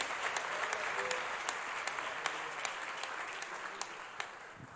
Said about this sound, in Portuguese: Quem crê nesta palavra, dê um brado de glória e aplauda o nome do Senhor Jesus